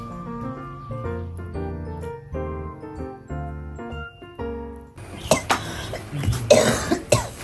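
A person coughs several times up close, a burst of harsh, rough coughs and throat noise filling the last few seconds after a stretch of melodic music with no voice.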